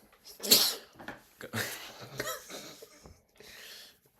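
A sharp sneeze bursts out early, followed by breathy sniffs and rustling, close to the microphone.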